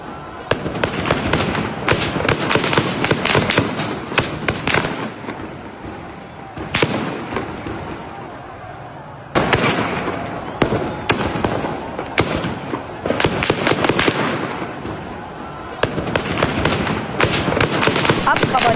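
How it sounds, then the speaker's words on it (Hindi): Security forces fire on protesters in Tehran, a dense crackle of repeated sharp cracks and bangs in irregular bursts, loud and echoing outdoors, mixed with crowd noise and a news anchor's voice. "अब तेहरान में प्रदर्शनकारियों पर फायरिंग की एक और तस्वीर है।"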